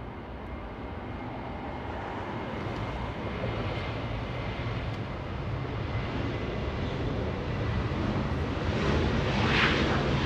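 An Emirates airliner rolling for takeoff on runway 24 left at Los Angeles International Airport gives a broad, steady jet roar from a distance that slowly swells louder through the whole stretch, with no voices.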